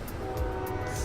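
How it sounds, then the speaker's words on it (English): Train rumbling steadily past outside, a continuous loud low roar with a faint sustained tone above it, no voices. "I again apologize for the train sounds."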